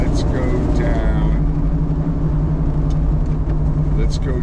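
A Plymouth 440 Cuda's engine rumbles steadily up close with a low, continuous drone as the car drives, while people talk over it.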